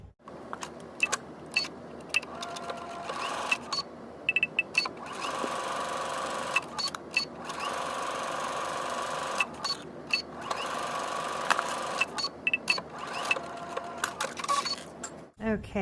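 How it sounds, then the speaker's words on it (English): A domestic sewing machine stitches along a seam line over the raw edges of a garment pocket, running in long continuous bursts with brief pauses and start-stop clatter, close and fairly loud. "we'll take it to the machine and we'll stitch along the seam line on the raw edges here"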